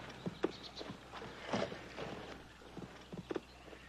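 Horse hooves clop on hard ground in an uneven walking rhythm in the western TV series Bonanza, a few sharp distinct strikes close by, with no voices.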